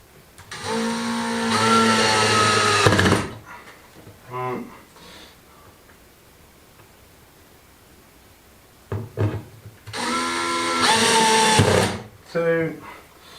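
A power drill drives screws while a door is fitted during a finca renovation in Spain. Two close bursts of whirring motor whine, each lasting a few seconds, are separated by a quieter gap with brief knocks and handling sounds.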